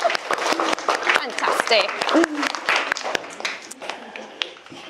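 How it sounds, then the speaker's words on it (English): Applause from an audience at a children's book launch, a brisk run of claps near and clustered, with a voice speaking briefly over it. "give her a round of applause."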